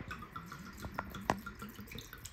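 Claret wine poured into a crock pot for Victorian mulled wine, giving a soft liquid trickle with a few sharp splashes and drips close by, over a low background hum.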